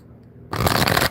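Tarot cards being shuffled: a single close, loud riffling burst lasting about half a second after a quiet start, with no talking.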